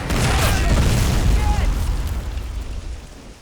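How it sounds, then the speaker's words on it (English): A grenade explosion in the Men of War Assault Squad video game booms loud and close, then its low rumble decays over a few seconds. "We ran into the anticipatory grenade,"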